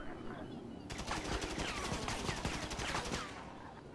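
Rapid automatic gunfire in the video game GTA, with a dense burst of shots for about two and a half seconds. It rises after a quieter start and fades out at the end.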